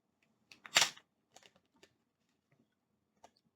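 Broken scissors hack into a cardboard package, giving a few quiet, close snips and scrapes: one louder cut near the start, then scattered small clicks and rustles.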